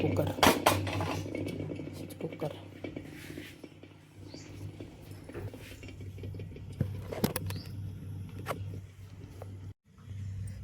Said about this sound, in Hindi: हम रखते हैं कुकर।